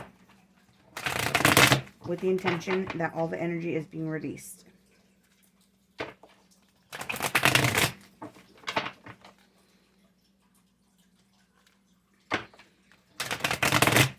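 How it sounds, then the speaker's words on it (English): Cards are shuffled in three quick riffling bursts, close and crisp, separated by pauses, with a person speaking softly between the first two. "some people clear their decks by simply shuffling their cards"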